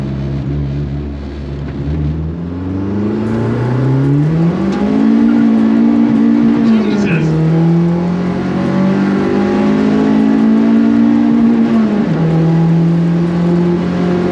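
Mini Clubman with a swapped-in 1.8 turbo K-series engine accelerating hard, loud and close, its engine note climbing steadily through the gears with a brief dip at each shift, no talking over it.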